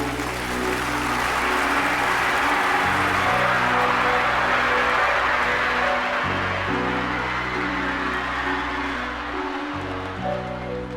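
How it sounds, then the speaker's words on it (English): A live comedy show audience applauds steadily, loud and sustained throughout, mixed with piano music playing underneath. "Could I have a big round of applause, please"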